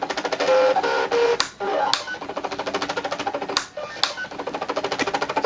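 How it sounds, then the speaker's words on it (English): An eCraft cutting machine drawing shapes and then words gives off rapid, regular mechanical ticking with short whirring movements and a few sharper clacks as it shifts position, close and steady, with no voices. "First it draws the shapes, which is the inside boxes, and then it draws the words that I chose."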